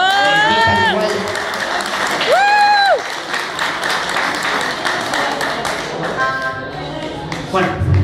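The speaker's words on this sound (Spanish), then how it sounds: "Un fuerte aplauso para la señorita Sara Osuna" Audience applause and cheering for saxophonist Sara Osuna at a rock club gig, mixed with sustained saxophone-like melodic tones, taps and thuds, and a voice calling out over the crowd.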